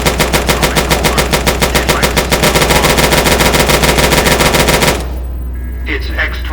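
A Securitron's X-25 Gatling laser in Fallout: New Vegas fires a rapid, evenly spaced stream of loud, close shots for about five seconds, then cuts off, leaving a low hum and a faint mechanical clatter.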